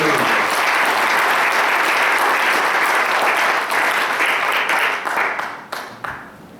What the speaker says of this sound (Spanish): ¿Le puede dar un aplauso al Señor?